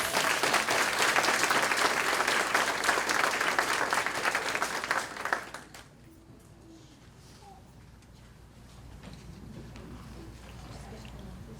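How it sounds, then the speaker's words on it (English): Loud applause from an audience at an elementary kindergarten celebration for award recipients, dense clapping for about five seconds before fading into quiet room murmur. "Let's give them all one big round of applause."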